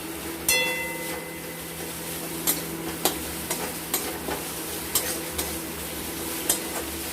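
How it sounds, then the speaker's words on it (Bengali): Fish kofta curry masala sautés in a pan on high heat: a constant low sizzle broken by a series of sharp spatula scrapes and clicks every second or so, close and moderately loud. "আঁচটা আমরা একদম বাড়িয়ে দিলাম, দিয়ে এটাকে আমরা একটু সামান্য কষে নেব"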